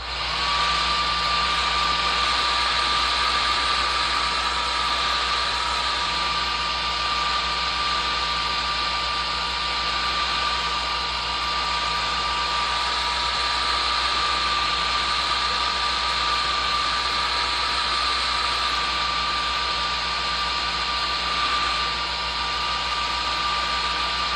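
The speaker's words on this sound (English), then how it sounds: "Trusty hair dryer once again." A hair dryer blows steadily and loudly over a model railroad tank car being weathered, a constant whooshing roar with a motor whine and no breaks.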